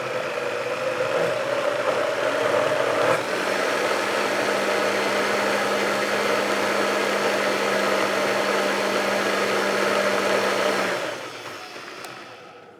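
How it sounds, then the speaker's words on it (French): An electric blender mixes a plant-based pastry batter at low speed and then steady half power, a loud continuous whirring motor hum that shifts pitch once early on and winds down near the end. "on va mixer à petite vitesse au départ, et après on va aller graduellement jusqu'à la moitié de la puissance"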